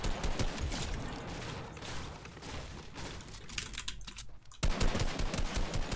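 Rapid gunfire in the Fortnite video game, a dense burst of automatic-sounding shots running steadily for several seconds, pausing briefly, then resuming loud and close.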